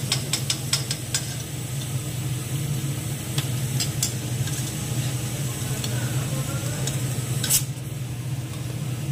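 Gram-flour kachori deep-frying in hot oil, six at once, giving a steady bubbling sizzle with scattered crackles and pops, close and moderately loud, with no talk over it.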